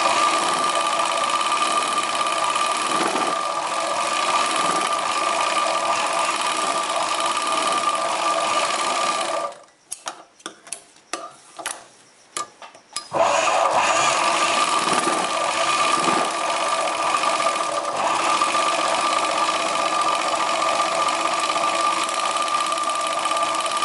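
A sewing machine stitches a chudidar pant with a steady, close mechanical whir that stops briefly midway, leaving a few seconds of handling clicks, then resumes at the same pace.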